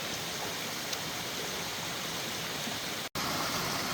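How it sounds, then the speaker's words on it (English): A small waterfall cascades along a wooded hiking trail to Lee Falls, a steady, close, broadband rush of falling water with no break except one brief dropout. "Well, I've made it to a small waterfall here."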